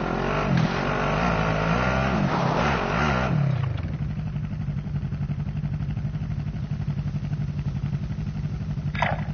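A car engine revs hard while driving in the video game Warzone, with a loud rising and falling roar over the first few seconds that settles into a steady, rattling drone, ending in a brief high whine.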